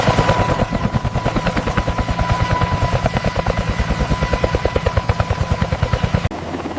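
A modern helicopter's rotors beat loudly and steadily in a fast, even chop close by, then cut off abruptly near the end, leaving only a low residual rumble.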